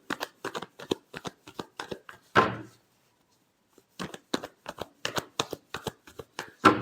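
Tarot cards are shuffled in two bursts of rapid, crisp riffling and slapping taps, each ending in a louder flutter, separated by a short silence, close up with no talk.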